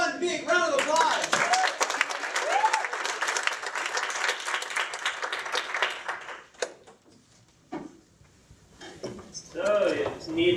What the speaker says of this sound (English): give them one big round of applause.